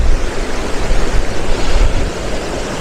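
Water rushes steadily through a flooded ford on wild Marsden Moor, a loud, continuous broadband roar with wind buffeting close to the microphone and no voices.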